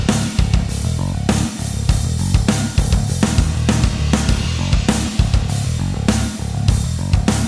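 EZBass picked bass preset locked together with EZDrummer metal drums, a dense continuous groove of driving bass notes, pounding kick and sharp snare and cymbal hits, loud and unmixed, with no talking.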